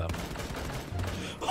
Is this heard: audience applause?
no